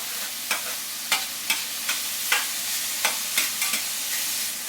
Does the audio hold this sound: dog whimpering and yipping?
no